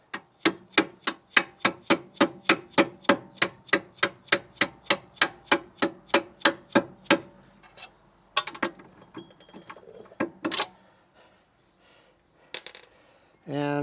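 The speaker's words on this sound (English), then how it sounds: "this is a dead blow hammer" Dead blow hammer striking car axle parts during a CV axle replacement, delivering about two dozen steady, evenly spaced sharp impacts, followed by scattered clanks and rattles of metal parts.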